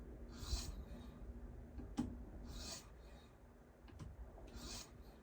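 A Spyderco house knife of fairly soft steel being sharpened on a CBN stone of roughly 400 to 500 grit: three quiet, gritty rasping strokes, evenly spaced, close by, with no talking.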